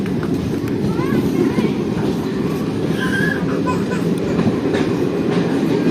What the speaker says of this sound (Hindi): ट्रेन का डिपार्चर हो गया।